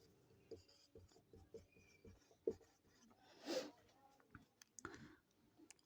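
Chalk or marker strokes on a board during a Bengali physics lecture on electrostatics, a series of faint scratchy taps and rubs with a few louder clicks, quiet and close.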